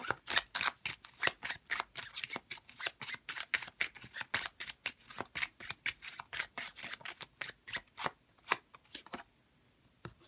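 Tarot cards shuffled by hand in a quick run of crisp riffling snaps and flicks, steady and close for most of the stretch, ending with a couple of sharper card slaps before going quiet.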